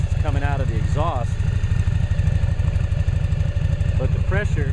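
A Yamaha Virago motorcycle engine, left sitting a long while and with rust in the exhaust, runs at a steady loud idle with a rapid even throb, close by, while someone talks over it.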